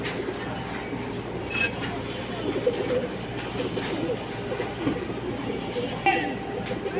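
Racing high-flyer pigeons coo softly in a loft, with low murmuring calls under a steady background hum and some faint human voices.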